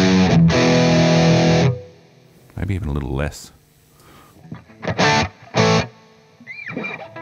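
Distorted electric guitar played through a Boss GT-1000 with a light plate reverb, loud sustained chords that ring and then stop, followed by short bursts and strums, with brief talk in between.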